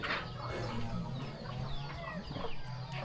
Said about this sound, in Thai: โอ้เสียงไก่นี่หลาย